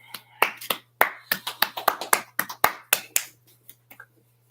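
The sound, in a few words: applause for race car driver Maui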